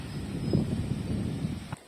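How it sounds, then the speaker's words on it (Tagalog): Steady low rumbling wind buffeting the microphone while fishing over choppy water, a continuous blustery roar with a brief knock near the end before it drops away. "Kaso may hangin."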